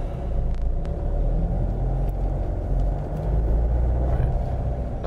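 A car engine rumbles steadily at low pitch, close and continuous, with a slight shift in tone partway through as the driver shifts into second gear.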